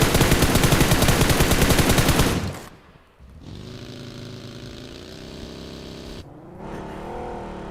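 Rapid automatic gunfire in a video game scrim rattles loudly for about two seconds, then cuts away to a steady engine drone of a vehicle with a brief gap before the drone resumes.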